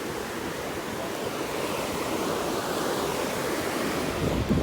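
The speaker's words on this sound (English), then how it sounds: "Alright, we're in the beach." Ocean surf at a beach, a steady broad roar of breaking waves mixed with wind buffeting the microphone, loud and continuous, no talk.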